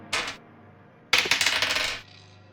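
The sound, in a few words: rolling one die repeatedly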